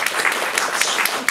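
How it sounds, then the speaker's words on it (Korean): Brief burst of audience applause at a Korean film screening and talk event celebrating a milestone, dense scattered clapping at moderate level with faint voices mixed in. "박수 한번 부탁드리겠습니다"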